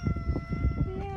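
A cat meows at a humane society shelter caring for burned animals, a short close cry heard over a busy background hum with faint voices.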